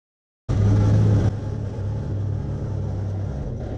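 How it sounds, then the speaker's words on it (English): A tractor engine starts suddenly after silence, roaring briefly before easing into a steady, low droning run. "For hauling away the old metal and tar roof, the tractor comes in handy again"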